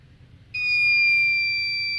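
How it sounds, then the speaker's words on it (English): Startup beep inside the cab of a DIA-101 locomotive with a rail sander system: after a faint low hum, a single clear, steady electronic tone sounds and holds without a break for the rest of the moment. "You will get several beeps."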